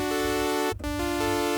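Sustained synth chord in D with a major third, a bright, steady harmonic pad held close and loud, with a brief dip near the middle before the chord returns, alone without voices.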